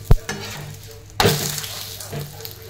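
Large four-layer Kolhapur chapati frying with oil on a hot pan, a soft close sizzle broken by a sharp clack and a rustling scrape as it is handled.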